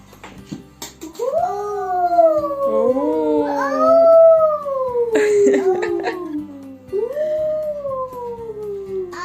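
A voice imitates a wolf, letting out several long, wavering howls that rise and fall, loud and close.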